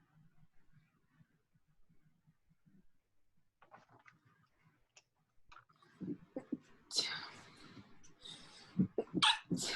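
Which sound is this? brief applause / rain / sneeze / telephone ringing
sneeze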